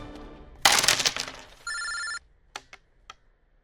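A telephone rings in a tense film scene, one short electronic ring burst standing out clearly after a loud crash-like noise, with a few sharp clicks following in an otherwise quiet room.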